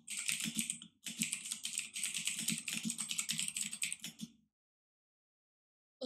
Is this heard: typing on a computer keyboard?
yes